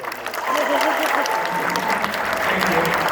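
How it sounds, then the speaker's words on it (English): A school concert audience applauds steadily, a dense wash of clapping from a full hall that swells quickly and holds loud, with some voices mixed in. "a thunderous round of applause for all of our participating students"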